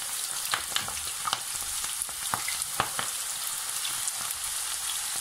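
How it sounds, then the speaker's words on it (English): Cassava chips crackle and sizzle in medium-heat oil, a steady close frying hiss dotted with sharp pops and spits, with no voices. "into medium heat oil. Medium heat. Throw in some of your cassava chips or cassava crisps."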